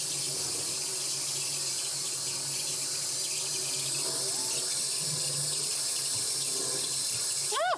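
A kitchen tap runs steadily while a spoon is washed under it, a loud continuous rush of water close by with faint background sounds and a brief splash near the end.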